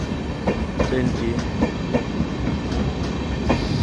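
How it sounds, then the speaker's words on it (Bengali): The Sairang Express, a long train with new coaches, rolls into Murshidabad station with a loud, close, rhythmic clickety-clack of wheels over rail joints and a steady rumble, with no voices. "সাইরাং এক্সপ্রেস ঢুকে গেল আমাদের মুর্শিদাবাদ স্টেশনে, ঢুকে পড়েছে"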